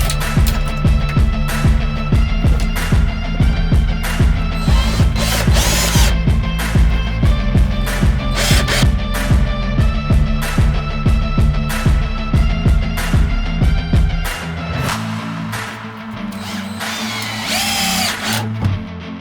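A power drill driving bolts into a wooden bed frame inside a bus being converted into a motorhome, running in loud, repeated bursts with short pauses, then easing to a lower, steadier whir near the end.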